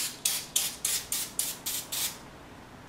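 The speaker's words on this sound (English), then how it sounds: "I'm going to go ahead and spray it around each and every outlet here just to make sure that I get this really well coated" All-purpose cleaner sprayed from a trigger bottle onto a stove top: seven crisp, evenly spaced hissing spritzes in quick rhythm, close and fairly loud, with one more starting at the end.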